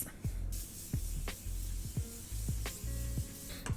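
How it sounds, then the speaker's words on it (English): Morphe setting spray mists over a face in a run of short, close pumps, about six quick bursts in a steady rhythm with soft hissing between them. "just going to take my Morphe setting spray and just spray this all over my face"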